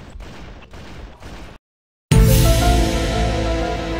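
A shotgun firing in the Halo video game, with a loud close blast after a brief silence, then a sustained rumbling echo and ringing decay; softer game noise comes before the shot.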